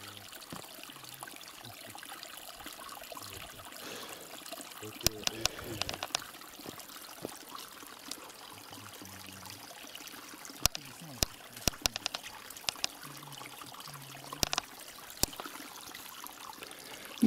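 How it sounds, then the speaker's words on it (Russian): Clean water flows constantly in a stream, a steady trickling wash with small splashes and clicks, while someone talks over it at length. "Видите, все время течет здесь чистая вода"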